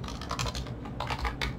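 Typing on a computer keyboard while building a web page in HTML and CSS: a short, close flurry of rapid clattering keystrokes, fairly loud and dense.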